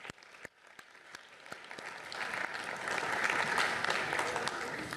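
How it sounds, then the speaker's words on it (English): A city commission meeting audience applauds for school principals, starting with a few sparse, distinct claps that swell into fuller, louder clapping by the end. "let's give them a round of applause"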